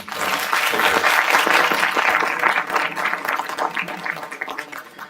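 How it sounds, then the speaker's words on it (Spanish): Applause fills the room at a Spanish-language panel discussion on adolescence, a dense burst of clapping that peaks early and then gradually thins into scattered claps. "Un aplauso"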